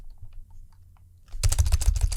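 A computer keyboard clatters as someone types a comment, starting after a near-silent stretch and continuing as a quick, uneven burst of close, crisp key taps.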